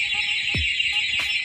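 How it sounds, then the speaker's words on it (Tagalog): A Honda Click V3 motorcycle's anti-theft alarm sounds as a loud, steady high-pitched electronic tone, with a couple of brief chirps and a faint thump mixed in. "isa pang galaw, tutunog na po itong remote, pati yung alarm"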